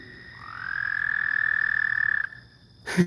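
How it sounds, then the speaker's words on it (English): Frogs near an abandoned coliseum in Oklahoma give one long, loud, steady trilling croak that swells in, holds for about two seconds and cuts off, followed by a brief burst of noise. "Those frogs."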